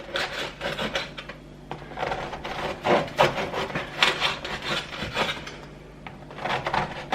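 A knife saws through an old, stale loaf of bread into big slices, with repeated dry rasping strokes and crumbly scraping in an uneven back-and-forth rhythm, close and fairly quiet.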